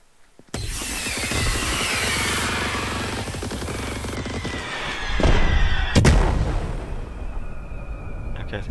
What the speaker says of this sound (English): I think the propane tanks went off.